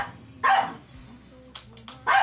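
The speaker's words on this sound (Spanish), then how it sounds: "Bueno, tenemos a nuestro perrito." A small dog yaps in three short, sharp bursts spaced about a second and a half apart, heard nearby and fairly loud over a low background hum.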